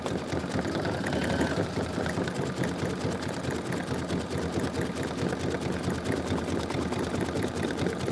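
A sewing machine runs a placement stitch for a label, a steady, fast mechanical chatter that continues evenly without pause.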